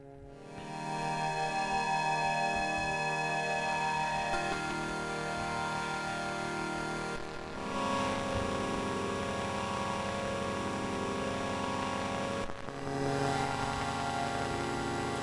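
Sustained Alesis Micron synthesizer drone, a dense stack of steady harmonic tones that holds at a constant loud level and shifts timbre twice, with no voices.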